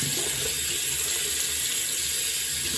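Tap water runs steadily into a sink while peeling gel is rinsed off a face, a close, continuous hiss and splash with no talking.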